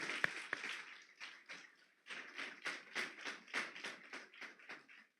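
Church congregation applause, a soft scattering of claps at first, then a steadier pulsing round of clapping at a moderate distance, faint and without voices.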